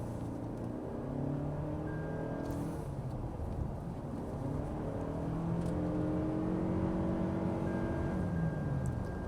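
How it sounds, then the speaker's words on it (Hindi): A Toyota Camry accelerates on the road, its engine note rising steadily in pitch over a continuous low hum of road and tyre noise, heard from inside the cabin with no talking. "एक्सेलरेट करते हैं"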